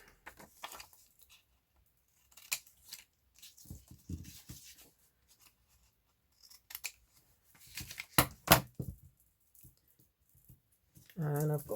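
Scissors trimming paper book pages at a craft table, a series of short, crisp snips with quiet pauses between them, close by and fairly soft.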